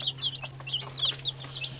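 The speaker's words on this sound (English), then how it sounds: "Little baby chicks." Newly arrived Americana and Bantam baby chicks give bursts of high, thin peeps that repeat close by with no break, over a low steady hum.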